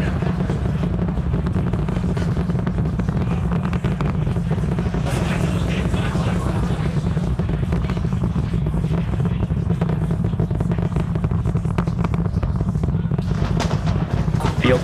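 SpaceX Starship's 33 Raptor engines roaring at launch six miles away during the IFT-6 flight: a loud, continuous, crackling low rumble that holds steady throughout.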